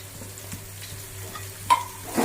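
Mustard seeds, cloves and curry leaves sizzle in hot oil in a pan for a Gujarati pulao, giving a steady crackling fry with a few sharp spatters and stirring clinks, close up and without speech.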